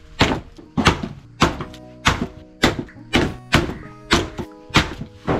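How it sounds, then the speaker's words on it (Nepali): Firewood being chopped by hand in a Nepali village, with about ten heavy, evenly spaced axe thunks into wood. Each blow rings briefly, and no voices are heard. "तिमी दाउरा हान्ने गर अबदेखि"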